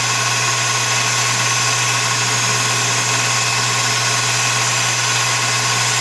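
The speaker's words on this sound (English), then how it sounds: "It's a tiny, crappy lathe, but it is quite handy for a little look like this." A small Enco lathe machines a pop rivet to shorten it, giving a steady, loud, continuous motor hum and hiss with a strong low drone throughout.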